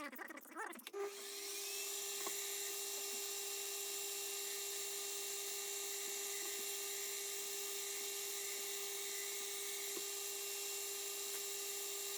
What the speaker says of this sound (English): the drill can find its own centre within that spot that I've already drilled with the carbide bit